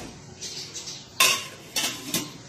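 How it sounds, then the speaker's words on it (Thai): A metal lid clatters onto a large 32-litre pot holding water and basil, with a few sharp clinks and scrapes close by, and no voices. "เมื่อใส่โหระพาเสร็จแล้วเราก็ปิดฝาเลยครับ"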